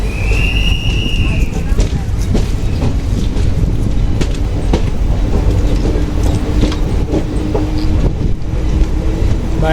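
The crowded Circar Express pulls out of Kakinada with a loud, continuous rumble and rattle of wagons, a brief high whistle near the start and scattered clanks throughout.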